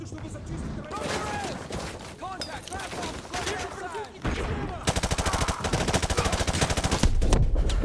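Automatic gunfire in the Call of Duty Modern Warfare 2 Remastered campaign on veteran difficulty: a voice talks over scattered shots at first, then a loud, rapid, sustained burst of rattling fire fills the second half.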